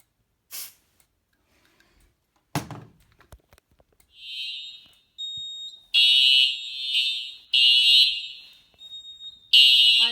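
Home fire alarm detector sounding during a system test: shrill high-pitched beeping pulses in an uneven pattern, loud and close, with a few clicks and handling noises before the alarm starts.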